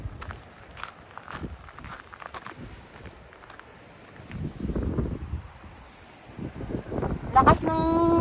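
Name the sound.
strong waves on Po Toi Island shore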